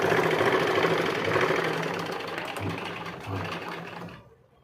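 A sewing machine runs a continuous line of straight stitches, a steady close mechanical whir with a regular rhythmic pulse that stops abruptly near the end.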